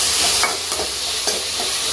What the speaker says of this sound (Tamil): வெங்காயம் வதங்கிடுச்சுப்பா.